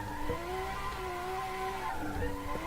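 In the Assetto Corsa driving game, a car slides through a corner on the clutch with a continuous loud tyre screech that wavers and breaks off, then resumes over a steady engine hum; no voices.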